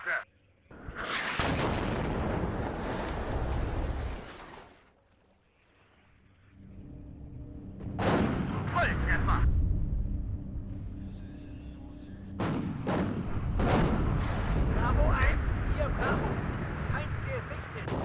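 Heavy artillery barrages boom in the Cold War strategy game WARNO, several deep blasts arriving in bursts with a short lull between them, loud and rumbling.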